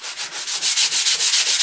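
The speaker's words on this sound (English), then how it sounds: "So I'm going to sand this lightly because I want to distress it somewhat." Light, rhythmic sanding strokes rasp back and forth on painted wood, close up, about a dozen even passes with no talking.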